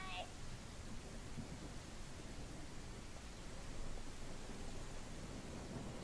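Steady broadband hiss of rain pouring down in a video game, loud and continuous throughout with no breaks, a brief faint chime near the start.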